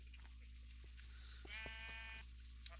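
A pink sheep bleats in a video game, one wavering, mid-pitched call over a steady low hum, faint and alone.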